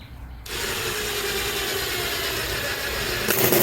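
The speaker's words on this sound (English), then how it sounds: "we're going to shoot a self-tapper right in the center of this" A power driver sinks a self-tapping screw into the center of a rusted metal fire pit, giving a steady, close, loud whirring grind that runs unbroken for about three seconds after a brief quiet start.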